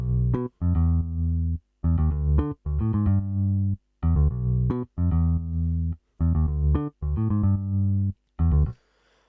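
A deep, rounded bass line plays alone in short, punchy notes with brief gaps, forming a steady funky groove.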